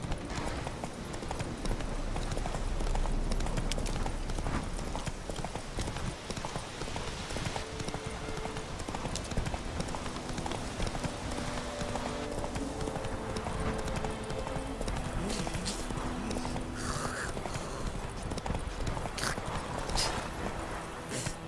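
A ridden horse's hooves clip-clop steadily and continuously at close range, with a dense, busy background beneath the rhythmic footfalls.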